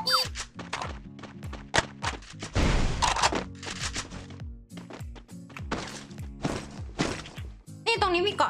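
Gunfire in the Free Fire battle-royale video game, repeated sharp shots and bursts in irregular clusters, fairly loud, with players talking over the action.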